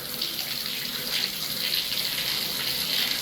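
Water gushes from the pipe of a two-handle shower during a cartridge change, a steady, loud hissing rush that runs unbroken and close.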